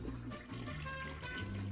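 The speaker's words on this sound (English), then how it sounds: "The old perpetual toilet flushing." A toilet flushes in a steady watery rush that runs unbroken from start to finish, moderately close and fairly quiet, with no voices over it.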